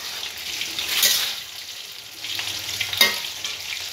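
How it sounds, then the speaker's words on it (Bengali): Chicken pieces frying in a pan for chilli chicken, ground black pepper added: a soft, continuous sizzle that swells into two louder hissing bursts as the meat is stirred and tossed. "মাংস ভাজা চলছে চিলি চিকেনে"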